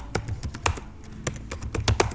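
A name being typed on a computer keyboard: a close run of separate, crisp key taps in an uneven rhythm, some struck harder than others, with no one talking.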